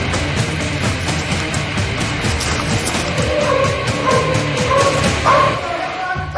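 A police dog barks repeatedly at an offender hiding during a search exercise, with loud rapid woofs and yips in a rhythmic stream, close by, while other noise and voices sit underneath.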